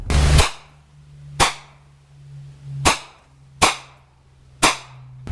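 A CZ pistol fires 9x19mm 165-grain FMJ HUSH subsonic rounds outdoors: five sharp, evenly spaced shots about a second apart, each with a short decaying tail over a low steady hum.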